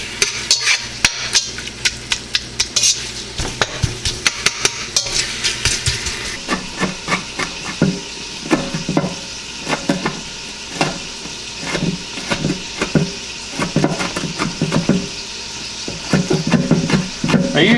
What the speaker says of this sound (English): we can separate our bacon a little bit